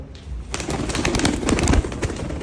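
Soft pigeon cooing mixed with scratchy rustling and fluttering, fairly close, with a busy textured background throughout.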